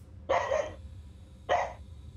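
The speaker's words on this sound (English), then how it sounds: "Please pardon the puppy." A puppy gives two short, sharp barks about a second apart, close by and clear over a quiet background hum.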